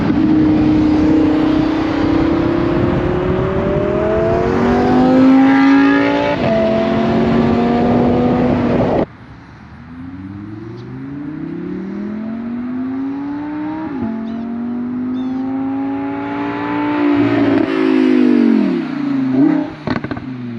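A 2022 Audi R8 Performance V10 fitted with a Kline exhaust revs repeatedly, its high-pitched, exotic wail climbing and falling across two loud, close takes with no talk.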